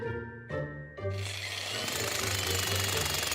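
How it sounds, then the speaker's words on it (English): A jackhammer breaks through a thick wall, a few hard knocks first and then continuous loud rapid hammering, close by. "we are going to have to finish breaking the wall with the jackhammer."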